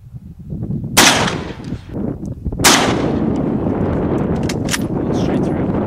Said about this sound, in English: Here, I'll shoot that can out there.